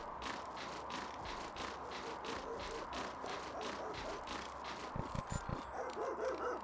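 A dog barks in a PC igloo-building game, a run of short sharp barks near the end over steady scraping and cutting sounds that fill the whole stretch, with no speech.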